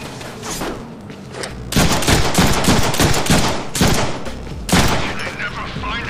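Video game gunfire from Deadpool rattles in dense automatic bursts and rapid volleys, loud and close, with a brief lull between heavy salvos and voices speaking beneath the shooting.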